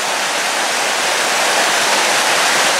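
Water rushes steadily through a small stone tunnel bridge in Dartmoor woodland, a dense, even, loud roar of flowing water with no pauses and no voices.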